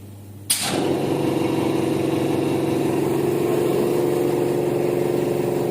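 An automatic 3050T screen printing machine switches on with a sudden burst and then runs with a steady, loud mechanical hum that stays constant throughout.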